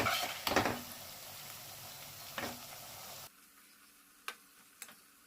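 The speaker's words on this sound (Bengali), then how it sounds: "এই যে এরকম ভাবে একদম লো আঁচে আমি ভেজে নিলাম" Semolina fries gently in a pan over a low flame, a soft close sizzle with a couple of stirring scrapes, then it cuts to near silence broken by faint clicks.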